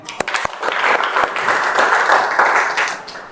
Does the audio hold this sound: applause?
yes